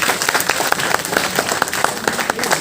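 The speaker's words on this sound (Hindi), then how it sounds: "एक बार जोरदार तालियां हो जाए संस्कृति जी के लिए।" A student open-mic audience at Banaras Hindu University applauds a poet after a recitation about farmers, with brisk, uneven clapping where individual sharp claps stand out over the general patter, close and fairly loud.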